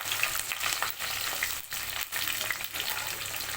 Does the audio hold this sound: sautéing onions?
yes